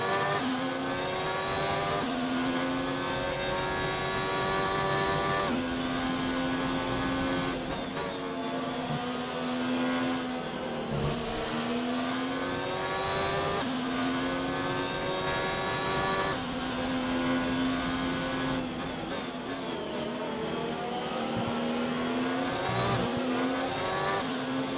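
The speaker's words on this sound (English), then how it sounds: "let you guys listen to this engine on the Alfa because I think it sounds amazing" Alfa Romeo Formula 1 car engine in the racing game F1 2019, a loud, continuous high-pitched scream rising through the gears, with repeated upshifts and dips on braking across several corners and no talking.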